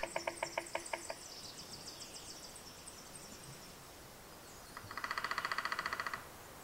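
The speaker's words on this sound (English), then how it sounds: "it is the male sapsucker that works at the cavity, while the female stands guard at the drumming trunk" A male sapsucker woodpecker pecks out a nest cavity in a tree trunk in spring woodland, giving a quick series of faint taps, then quiet, then a longer rapid rattling burst.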